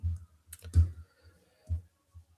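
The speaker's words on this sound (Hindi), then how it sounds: "और अब हम यहाँ पर क्लिक करते हैं" A computer mouse gives a few sharp, close clicks spaced irregularly with short pauses between, quiet and isolated.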